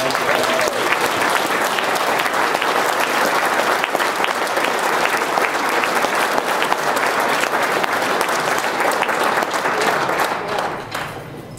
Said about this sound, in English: We should have a round of applause.